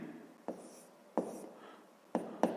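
Handwriting with a pen on paper while working a fifth-grade math exercise, soft scratchy strokes broken by a few distinct taps as the pen touches down, close and quiet, with no speech.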